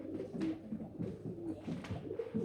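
Jacobin pigeons cooing at a British pigeon show, a steady run of low, throaty coos repeating close by against a murmuring hall background.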